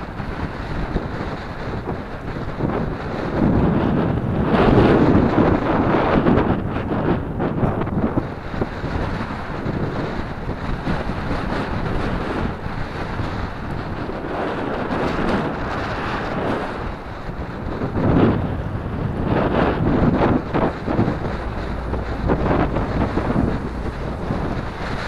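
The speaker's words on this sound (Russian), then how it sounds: "Жаль, только ветер в рыло." Steady strong headwind buffeting the microphone along a cycling path on the Tavrida highway, a continuous roaring rumble with gusts that swell and fade, and no voices.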